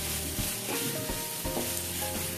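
Chicken pieces sautéing in a hot pan for a curry, giving a steady close sizzle with repeated scraping stirs of a spatula; nobody speaks.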